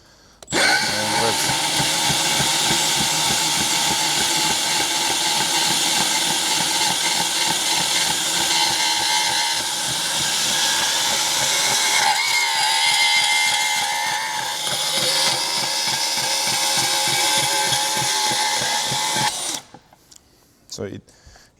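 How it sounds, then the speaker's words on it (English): Milwaukee M12 FUEL cordless bandsaw cutting aluminum: a loud, close, continuous whining cut that runs for nearly twenty seconds, then stops, leaving brief quieter handling noises. "So let's give these three materials a go to cut, and so you guys can see how this thing actually cuts."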